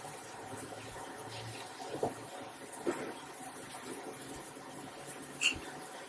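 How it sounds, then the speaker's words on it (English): A kitchen faucet runs quietly in a home while strawberry jam is being made, a soft continuous stream with a few louder splashes or knocks breaking through. "I should probably close the faucet."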